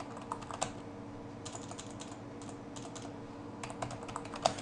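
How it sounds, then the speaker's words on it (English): Brisk, uneven clatter of keys on a new computer keyboard, close and fairly quiet, in short bursts separated by brief pauses. "I'm using a new keyboard, I do apologise."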